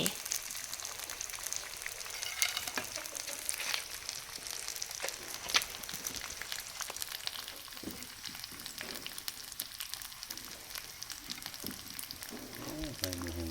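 Eel is stir-fried with curry paste and kaffir lime leaves in a pan, making a steady, dense sizzle with intermittent clinks and scrapes of stirring, heard close and continuous without a break.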